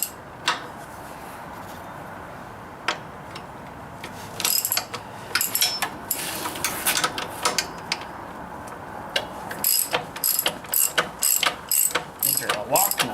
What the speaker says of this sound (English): I can probably go back to my ratchet now.